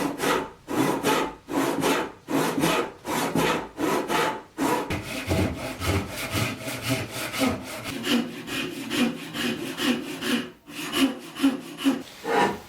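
Hand saw cutting a tenon into the top of a wooden post for a valet stand, steady rhythmic back-and-forth strokes, close and clear, pausing briefly before settling into faster, continuous sawing.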